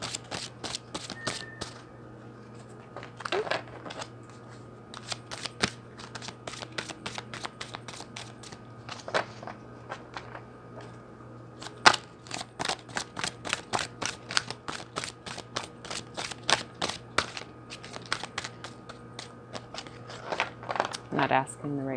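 Tarot cards shuffled by hand, long runs of quick crisp riffling and flapping bursts, close up, with a person talking at times alongside.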